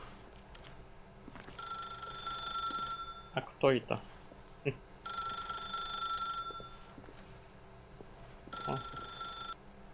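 Old-style telephone bell rings in the game The Stanley Parable, three bursts of loud electronic ringing spaced apart, with brief speech and other game sounds in between.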